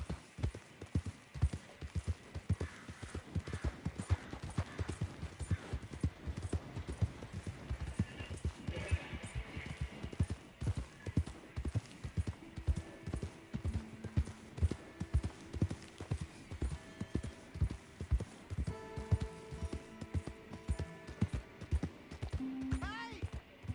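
Horse hooves clip-clop in Red Dead Redemption 2 in a steady, brisk rhythm throughout, with voices speaking at times over the hoofbeats.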